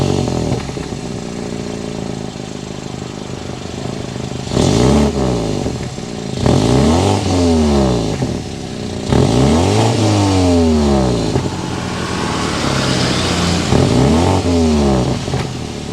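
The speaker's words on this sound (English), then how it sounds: "Let's go inside, start it up, so you can hear that exhaust note." A 2023 BMW X3 sDrive 30i with a twin-power turbo engine starts up, then revs several times in strong rising and falling sweeps, its loud exhaust note close and dominating, with no talk.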